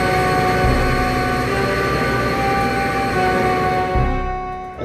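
A train departing from a Westminster, Colorado rail yard gives off a loud, steady rumble with a low clanking under it, continuous and close throughout, with no talking.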